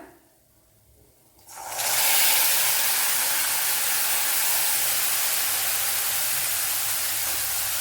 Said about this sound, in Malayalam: ഒരു 1/2 ഗ്ലാസ് തേങ്ങാപ്പാലുണ്ട്, അത് ഒഴിച്ചു കൊടുക്കാം.